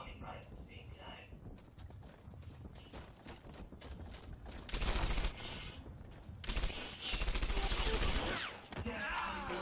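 Gunfire in Medal of Honor Airborne multiplayer, bursts of rapid shots in two longer volleys amid footsteps and other game sounds, with voices talking.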